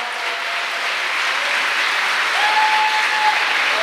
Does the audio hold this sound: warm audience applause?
yes